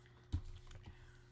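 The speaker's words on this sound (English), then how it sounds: "So it's good that I'm typing." Light keyboard typing on a computer late at night, a few soft scattered keystrokes with one sharper tap near the start, quiet and close with low background hum.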